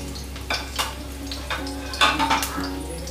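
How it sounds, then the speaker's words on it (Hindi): Chopped garlic drops into hot oil in a pan while cooking amaranth greens bhaji, giving a soft steady sizzle with several clinking pot and utensil knocks and stirring scrapes close by, no voices. "तेल गर्म हो चुका है, हम ये कटे हुए लहसुन इसमें डाल देंगे।"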